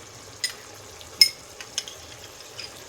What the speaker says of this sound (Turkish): Öncelikle yumurtanın beyazını ekliyorum.